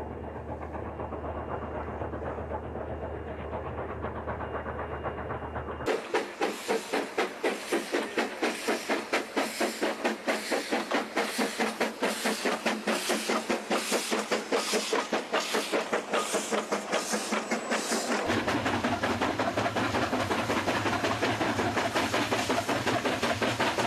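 A steam locomotive hauls a train through Inner Mongolia: a steady low rumble gives way to loud, rapid, evenly spaced exhaust chuffs with a hissing wash over them, continuing without speech.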